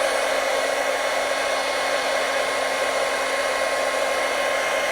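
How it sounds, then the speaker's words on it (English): A heat gun blows hot air for a crafting project, giving a loud, steady, unbroken whoosh with a constant motor hum and no voices. "you can pull in your heat gun"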